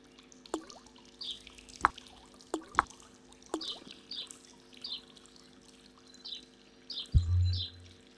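A shower area in the indie adventure game Stonewall Penitentiary gives off quiet, sparse drips and trickles of water, a few sharper plinks over faint chirping ambience, ending in a brief heavier splash.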